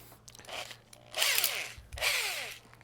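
An electric drill whirs in a few short bursts, spinning up and winding down with a grinding edge, close and fairly loud, with no talking.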